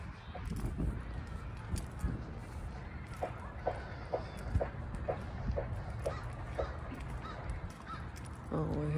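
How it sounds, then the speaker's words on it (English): A crow caws repeatedly in a regular series of sharp calls at a moderate distance, over pond-side outdoor ambience with faint voices. "oh, we hear a crow"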